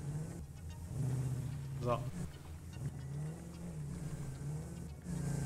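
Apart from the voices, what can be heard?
car driving in the video game Satisfactory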